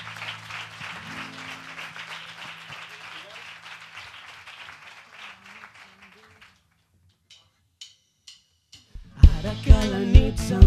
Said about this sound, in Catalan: Un aplaudiment per Aran.